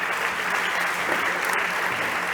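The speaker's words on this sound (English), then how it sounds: "big applause" A fintech startup competition audience gives a steady burst of applause after a pitch, clapping dense and even the whole time, close and moderately loud.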